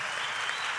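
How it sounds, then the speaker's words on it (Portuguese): Brief burst of audience applause at the JesusCopy church conference, a dense, even clapping from a crowd that fills the whole short moment. "Pode aplaudir aí."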